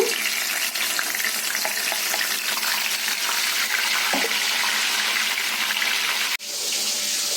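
Tomato puree hitting hot oil in a pan for a stuffed brinjal masala curry, a loud, steady hiss and sizzle held close, dipping for an instant near the end before resuming.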